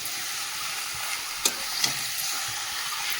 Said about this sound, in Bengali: মাংসটা দিয়ে দিই, মাংসটা দিয়ে এবারে কষাবো